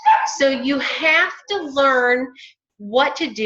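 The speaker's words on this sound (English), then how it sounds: "I know you can hear the dogs in the background" Two puppies yip and bark in short bursts, partly blending with someone talking over them indoors.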